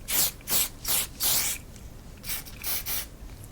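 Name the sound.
setting mist sprayed onto face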